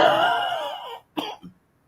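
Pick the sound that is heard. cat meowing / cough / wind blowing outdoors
cough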